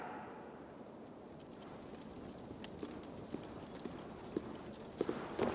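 Horse hooves clip-clop at a steady walking rhythm in Assassin's Creed Valhalla, set against a constant wash of outdoor ambience, with a few sharper hoof strikes standing out near the end.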